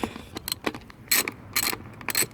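A socket wrench ratchets the 8 mm bolts off the air box of a Honda Express moped outdoors, giving a few short, close bursts of clicking with brief pauses between them.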